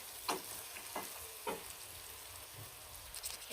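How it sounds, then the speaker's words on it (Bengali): Green chillies and onions fry in a pan, giving a soft steady sizzle with a few louder clinks or stirring knocks spaced out over several seconds. "মরিচগুলো ভাজা ভাজা করব।"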